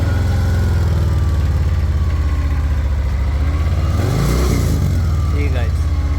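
A stock-exhaust 2014 Harley-Davidson Fat Bob idles loud and close with a deep, steady low rumble, then blips the throttle in a short rev that rises and falls back to idle.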